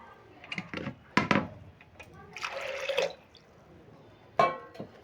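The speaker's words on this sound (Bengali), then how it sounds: "এবার দিয়ে দেবো জল পরিমাণ মতন আমি জল দিয়ে নিচ্ছি" Water poured into a pan while making Bengali egg tadka, heard as a few short splashing pours and drips, with a longer steady pour in the middle, close and moderately loud.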